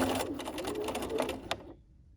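A home sewing machine stitches a dog leash in a quick run of rapid, even needle strokes, close and clear, then stops abruptly and falls silent near the end.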